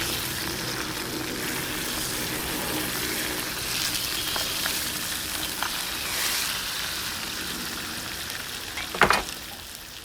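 Barracuda fish fries in a clay pot tagine, a loud, steady sizzle and crackle that lasts throughout, with a brief clatter near the end.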